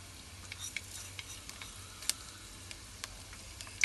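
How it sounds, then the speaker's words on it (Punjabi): Garlic and fenugreek seeds frying in hot oil in a kadai, a faint, quiet sizzle punctuated by scattered small pops and ticks of a spoon stirring, with no voices. "ਲਸਣ ਪਾਤਾ ਜੀ ਇਹਦੇ ਚ 2 ਚਮਚੇ ਮੇਥੇ ਪਾਤੇ ਆ ਜੀ"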